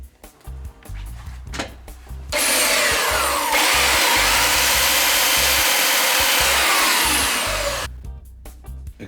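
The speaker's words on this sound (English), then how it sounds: "I'm going to sand it down and see if I can get it in line." A power sander works a wooden box crate in a close, loud, steady whir lasting several seconds, framed by brief quieter handling knocks before and after.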